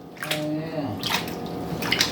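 River sand being swirled in a gold pan of water makes wet sloshing and trickling splashes in short bursts, close by, with no talk.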